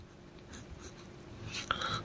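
A pen scratches across paper while a Class 10 maths proof is written out, with soft, close strokes and a quicker burst of scribbling toward the end, no voices.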